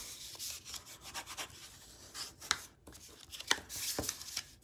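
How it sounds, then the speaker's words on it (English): Close, dry rubbing and scraping as a tool burnishes the edges of a paper card, in repeated strokes with a few sharper scrapes, alone with no talking. "The first thing I wanna do is to burnish these edges."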